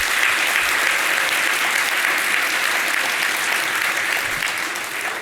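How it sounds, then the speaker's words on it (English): At a Kid Governor inauguration ceremony, a large audience gives a big round of applause for the young governor and his cabinet, steady, dense clapping that fills the whole stretch and tapers slightly at the end. "Let's kick things off with a big round of applause for Cristiano and his cabinet"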